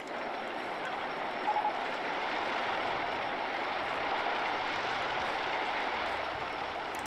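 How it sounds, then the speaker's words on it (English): Roller coaster trains in RollerCoaster Tycoon 2 run on a steady, broadband rumble that holds evenly throughout, with a couple of brief faint clicks near the start and no talking. "As soon as a train pulls out, another train pulls into the station."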